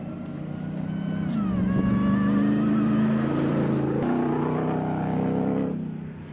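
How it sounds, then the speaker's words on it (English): A 2021 Ram 1500 TRX's 6.2-liter supercharged engine rumbles steadily up close, a deep continuous drone that swells and holds with a slight rising whine before easing off. "If you hear a little rumble the entire time I'm doing this video, it's the engine."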